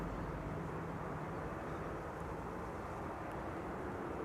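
An Air Arabia Morocco airliner at Amsterdam Schiphol Airport makes a steady, faint, distant engine roar that holds evenly throughout.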